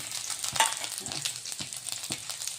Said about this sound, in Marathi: ह्यात काही लसूणच्या कळ्या आणि जिरं यामध्ये तडका देत आहे मी